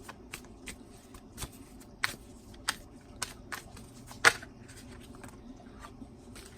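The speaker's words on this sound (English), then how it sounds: "let's go ahead and shuffle the Sacred Traveler Oracle cards." Sacred Traveler Oracle cards are shuffled by hand, close up, making soft sliding rustles punctuated by sharp irregular snaps and taps as the deck is cut and riffled, with no talking.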